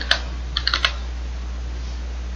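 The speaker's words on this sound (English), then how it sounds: "So I'm going to type old file" A few quick keystrokes on a computer keyboard while entering a file name in Linux: a single tap, a brief pause, then a short cluster of four clicks, close and clear over a steady low hum.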